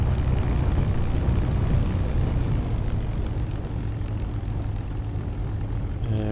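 A P-51D Mustang idling on grass in Microsoft Flight Simulator, a steady deep rumbling piston-engine drone with slight throbbing, continuous and fairly loud throughout.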